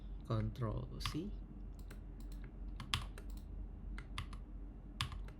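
Computer keyboard keys pressed at a terminal to enter Ctrl C: a scattering of sharp, irregular clicks, close and fairly quiet, with a voice speaking briefly near the start.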